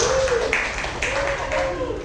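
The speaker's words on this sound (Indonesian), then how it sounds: "Mari kita beri tepuk tangan." Audience applause at a teacher training session on positive school culture: steady scattered clapping fills the short stretch, with a voice or two faintly over it.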